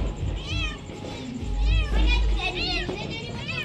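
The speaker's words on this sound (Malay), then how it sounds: "Kucing guys." A cat meows several times in quick succession, close by and fairly loud, with children's voices chattering in the background on a festive evening.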